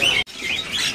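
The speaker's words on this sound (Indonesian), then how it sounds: "Ada burung kacer." An oriental magpie-robin (kacer bird) at a bird market sings bright, clear chirps and whistling phrases at close range, broken by one brief gap.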